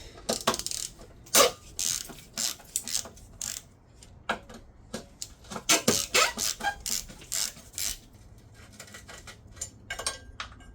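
A ratchet removes 12 mm bolts from the alternator on a 2002–2006 Nissan Altima 2.5, with close, rapid bursts of clicking that come in uneven spurts and short pauses.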